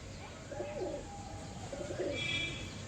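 Pigeons in a loft give soft, low coos in two short bursts, fairly close but quiet, with faint chirps and a steady background hum.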